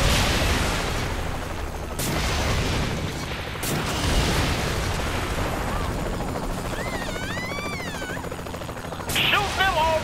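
Gunfire in the video game Saints Row 3 cracks out as sharp bursts over a busy, dense background, with voices talking in between and a whistling, warbling tone near the end.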